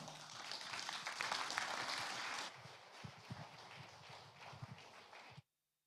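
Audience applause greeting a folk band at a concert marking the 70th anniversary of KW Katowice, a dense steady clapping that fades into scattered claps and footsteps before stopping abruptly.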